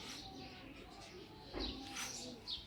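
Racing pigeons from an old bloodline coo in a loft, a few soft, low murmuring calls rising over steady background noise, with a brief louder burst near the middle.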